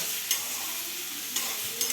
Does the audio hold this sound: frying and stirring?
yes